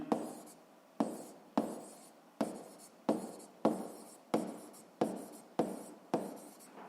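Chalk or marker writing on a board during a physics lesson, a series of about ten regular scraping strokes, each starting with a sharp tap and trailing off, close and clear with no talking.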